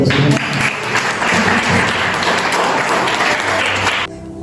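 Dense, steady applause from a church congregation fills the space at a loud, even level, running continuously before cutting off near the end.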